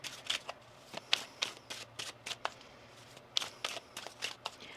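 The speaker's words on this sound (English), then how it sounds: "One more shuffle." Tarot cards are shuffled by hand in quick, crisp riffles and flicks, close and fairly quiet, in uneven bursts with short pauses between them and no speech.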